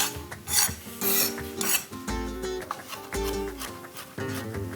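A knife coarsely chopping sliced bacon on a cutting board, a quick, close sequence of knocks and scraping strokes in an uneven rhythm, with no talking during the chopping.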